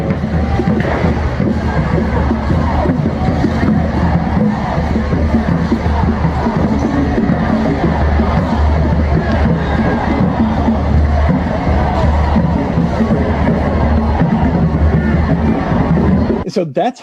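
A large protest crowd roars continuously at high volume, with dense overlapping shouting and babble that stays steady throughout before cutting off at the end.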